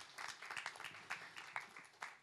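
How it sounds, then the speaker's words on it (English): Scattered, faint audience clapping at a film festival press conference, a handful of separate sharp claps over about two seconds from a small distant group, with no voices. "Let's have a clap for Chetan ji."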